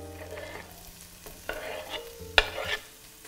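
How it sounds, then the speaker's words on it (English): Spoon stirring ginger and red peppers through an Ital vegan curry in a pot, scraping and clacking in a few distinct strokes over a soft sizzle, close and moderately loud with no voices. "I'm mixing in the ginger and red peppers"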